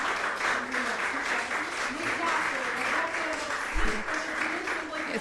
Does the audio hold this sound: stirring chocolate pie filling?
no